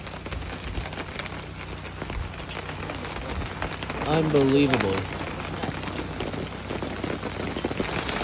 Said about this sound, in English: Whole lot of hail coming down now.